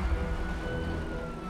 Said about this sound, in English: The ambulance is coming after me!